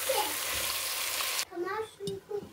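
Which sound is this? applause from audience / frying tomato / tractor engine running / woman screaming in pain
frying tomato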